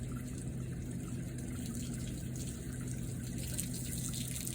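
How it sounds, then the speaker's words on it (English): Water runs steadily out of the top of a car radiator during a flush, a continuous close, even gushing wash with no breaks, heard alone. "Wait for water to start coming out the top of the radiator."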